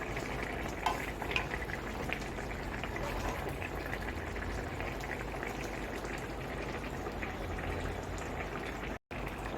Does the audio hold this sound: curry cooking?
yes